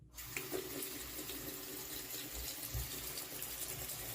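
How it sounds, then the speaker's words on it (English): Water running from a tap into a sink, a steady close splashing rush with no pause after it is switched on, no voices. "You want me to turn on the water?"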